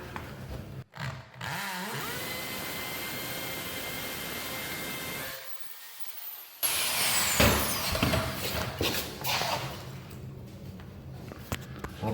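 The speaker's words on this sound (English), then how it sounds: "This is a 3/16 masonry bit. And all I'm going to do is drill in." A loud power drill with a 3/16-inch masonry bit whines steadily, stops briefly, then bites into concrete with a harsher grinding drone, close by and continuous.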